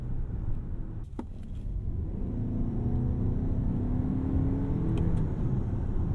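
A 2026 Toyota RAV4 GR Sport driving and accelerating, heard from inside the cabin as a steady low road rumble and engine drone that builds gently, with a few faint clicks near the start and end.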